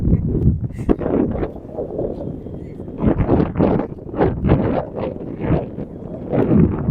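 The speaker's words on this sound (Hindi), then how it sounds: "अभी कितनी जोरदार हवा चल रही है यहाँ पे" Strong wind at Rishikesh buffeting the microphone in loud, uneven gusts that roar continuously throughout.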